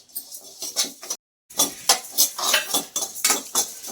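Flax seeds and oats dry-roasting on low heat in a pan, stirred with steady scraping and light clattering strokes that pause briefly before resuming at a quick, uneven rhythm. No voices.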